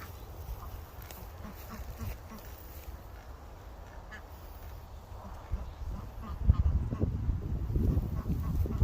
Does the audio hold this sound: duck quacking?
yes